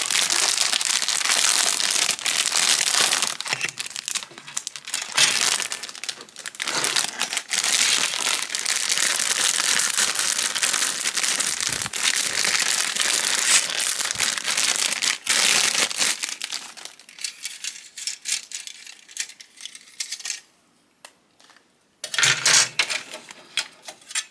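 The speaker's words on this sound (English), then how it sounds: "Let's first get the pieces out of the plastic piece." Plastic bags around Pokémon Gengar model kit runners crinkle and rustle loudly and close up in dense, continuous bursts, easing into quieter sporadic handling near the end.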